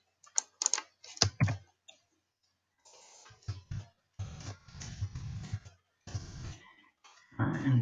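Someone types a name for a new Google drawing on a computer keyboard, giving bursts of close, crisp key clicks separated by short pauses, with no voice.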